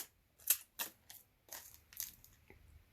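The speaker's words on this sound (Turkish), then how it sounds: "Kamerada şu poşeti de çıkaralım hatta." Crinkly plastic bag being peeled off and pulled away from a new Amazon Fire TV Stick 4K remote control: a handful of sharp rustling crackles in quick bursts, close and fairly quiet, with no talking.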